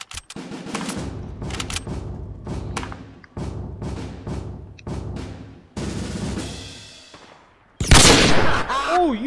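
Rapid bursts of Fortnite Battle Royale gunfire, several separate volleys of shots landing close and loud, ending in a sharper blast with a rising whine.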